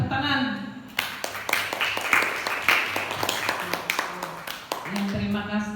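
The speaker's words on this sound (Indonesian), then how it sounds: "Kita kasih surprise, tepuk tangan." Audience applause at a school teachers' event in Indonesia, a burst of sustained clapping from a crowd in a hall, with a voice speaking at the start and end.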